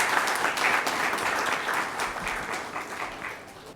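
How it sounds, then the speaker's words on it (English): Dense, steady applause from an audience at a reading olympiad appreciation ceremony, honouring the nominees; a broad wash of many hands clapping at once that holds loud before easing slightly toward the end. "So big round of applause to all the people who have got nominated."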